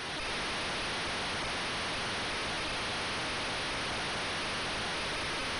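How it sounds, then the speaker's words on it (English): A ZX Spectrum game plays a loud, unbroken hiss of white noise as its sound effect, steady and even throughout with no other sound or voice. "the sound works well, even though it's just a lot of white noise"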